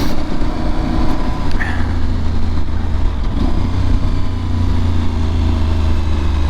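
An Aprilia Tuareg 660 motorcycle is ridden along a road, its engine a steady low drone under constant wind rush, loud and close with no break.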